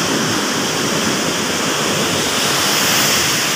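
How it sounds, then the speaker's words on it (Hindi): Fast river water rushes loudly past the Qadirabad barrage, a steady, dense roar filling the whole clip with no let-up and no voices. "ये देखिए इधर कितनी स्पीड से पानी जा रहा है"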